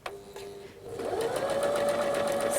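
A sewing machine runs steadily while stitching dress fabric during a zipper attachment, a short whirring start settling into a continuous close mechanical hum with no talking.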